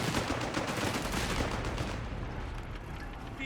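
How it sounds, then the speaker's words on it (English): Machine guns and rifles fire in a Company of Heroes 3 battle, a thick, continuous crackle of gunfire with rapid bursts that stays loud before easing slightly toward the end. "machine guns and rifles blazing away there"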